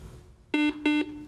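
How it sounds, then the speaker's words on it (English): A quiz show buzzer sounds the end of a toss-up round with two loud, identical, harsh electronic blasts, each about a fifth of a second long, separated by a brief gap and heard alone. "that buzzer means the end of our first toss-up round"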